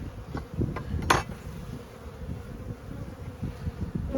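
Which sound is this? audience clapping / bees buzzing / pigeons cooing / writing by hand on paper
bees buzzing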